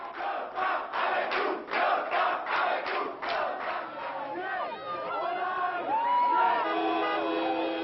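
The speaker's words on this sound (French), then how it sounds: "dernier bain de foule et dernière ovation pour Lionel Jospin" A large crowd cheers and chants outside the Socialist Party headquarters on rue de Solferino for Lionel Jospin, rhythmic pulsing shouts at first giving way to scattered whoops and shouts, loud and close throughout.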